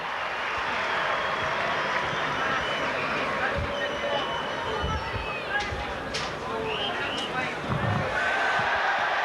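A rugby league crowd at Warrington versus Leeds murmurs and roars across a large ground in 1990, a broad continuous swell with a commentator talking over it.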